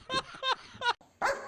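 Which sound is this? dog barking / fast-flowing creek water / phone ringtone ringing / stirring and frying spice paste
dog barking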